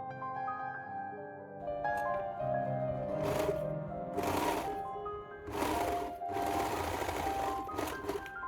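A sewing machine straight-stitches the side and crotch seams of a stretchy tube swimsuit, running in several loud bursts of rapid needle chatter separated by short pauses, with no talking over it.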